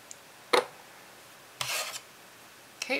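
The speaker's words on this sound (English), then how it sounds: "we're going to scrape this in this direction so that the pink doesn't bleed onto anything else on that image" Three short scraping strokes drag nail polish across a Konad stamping plate, each a brief rasping rub. The first is quick, the second is longer, and the last is cut short, with near silence between them.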